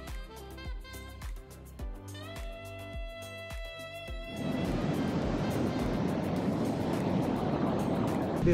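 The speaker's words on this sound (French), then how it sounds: "Il y a des grosses vagues" Big ocean waves roll in at Dreamland Beach, a surf beach. After music fades out, a loud, continuous broadband roar of surf fills the rest of the clip.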